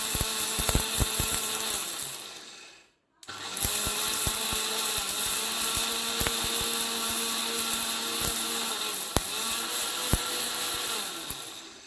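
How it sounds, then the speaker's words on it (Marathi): A kitchen mixer grinder blending a potato mixture for papad into powder: a loud, continuous motor whine that cuts out briefly and restarts, with rattling clicks throughout. "आता हे सगळं हलवून घ्यायचं मिक्सरमध्ये आणि ह्याची पावडर करून घ्यायची परत"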